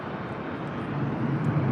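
A steady engine drone from an airplane at San Diego airport, continuous and moderately loud, building slightly toward the end.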